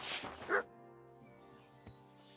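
Dog in the video game Kingdom Come: Deliverance II gives a short bark or yelp, loud and close at the start, then a quiet ambient tail with one faint click.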